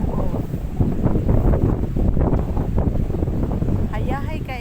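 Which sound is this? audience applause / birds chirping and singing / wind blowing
wind blowing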